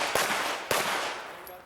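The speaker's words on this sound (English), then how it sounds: "A few makeup shots for good measure." Two sharp pistol shots at an IDPA shooting match at an outdoor wildlife club range, about half a second apart, each a loud crack with a brief ringing tail over faint background noise.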